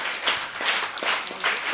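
A group of school students and teachers clapping in applause, a dense, steady patter of hands at moderate distance, lasting the whole moment.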